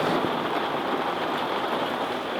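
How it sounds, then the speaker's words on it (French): Light rain patters steadily on a new Adria Compact DL camper van during a Charente shower, a dense even hiss of drops with no pauses and no voices. "je sais pas si vous entendez à la vidéo, mais il pleut un petit peu."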